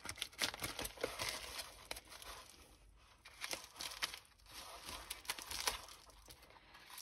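Scissors snip and slice open a plastic bag holding a diamond-painting kit, a close, faint run of crinkling and tearing plastic with irregular bursts and brief pauses, with no talking.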